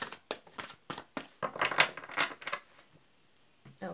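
Tarot cards being shuffled in a series of close, crisp riffling and slapping bursts, irregular and quick, fading to softer taps near the end with no talking.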